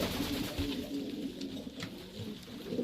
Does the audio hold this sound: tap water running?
no